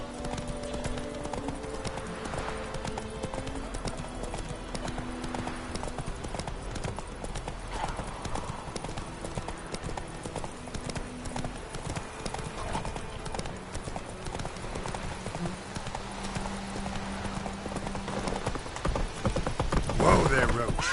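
Hooves of Roach, a horse in The Witcher 3, clip-clop at a steady walking rhythm under game music and voices, with a brief whinny-like swell at the very end.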